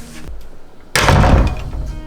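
An interior room door swings shut with a solid thunk in a house built with a shop downstairs, one sharp close impact followed by a brief rumble, alone with no talk.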